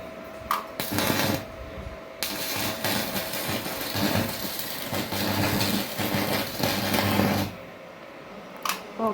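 An IBELL welding machine lays a weld in an outdoor shed, crackling and buzzing continuously for several seconds at close range before cutting off, with brief clicks at the start and end.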